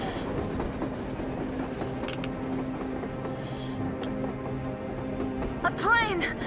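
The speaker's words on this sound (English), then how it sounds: "A train! A damn train on the surface!" A train rolls along on the surface in the post-apocalyptic game Metro Exodus, a continuous rumble with faint clickety-clack and mechanical creaks, then a sharp squeal near the end.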